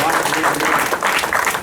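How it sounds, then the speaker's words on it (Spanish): A church congregation breaks into warm, continuous applause, dense and fairly loud, with voices mixed in among the clapping. "Los aplausos son para nuestro Señor siempre, siempre, siempre."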